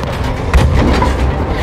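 A tank cannon fires in a Battlefield V battle, a single deep boom rolling out over a continuous low rumble of combat noise.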